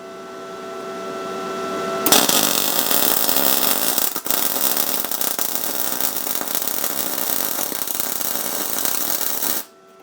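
A steady, loud crackling hiss from an Arccaptain MIG250 MIG welder laying a pass at about 200 amps and 24.4 volts, starting abruptly after a quiet moment and running unbroken for several seconds before cutting off.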